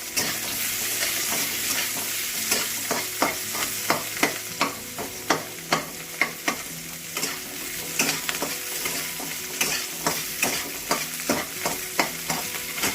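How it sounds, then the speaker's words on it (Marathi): Onion being sautéed in a pan for a drumstick (shevga) curry, with a steady sizzle broken by regular, sharp spatula scrapes and taps against the pan, close and fairly loud, with no talking. "कांदा परतून घेणार आहोत आपण।"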